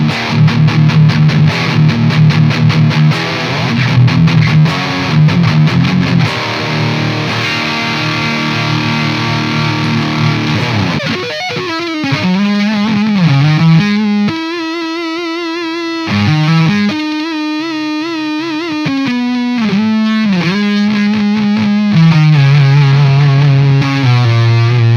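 Electric guitar switched between a JHS Haunting Mids pedal and its bypassed tone, first dense distorted chords, then singing sustained lead notes with bends, loud and unaccompanied by talk.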